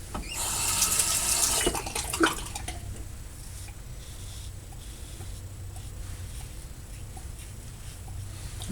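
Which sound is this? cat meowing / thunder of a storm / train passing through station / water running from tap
water running from tap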